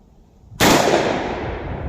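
A single loud, close gunshot from a .357 Magnum firing a 145-grain Winchester Silvertip round, a sharp blast followed by a long, bright decaying ring.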